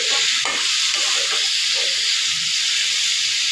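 Ash gourd and prawns stir-fried in a pan give off a loud, steady sizzle and hiss throughout, with soft scraping from stirring.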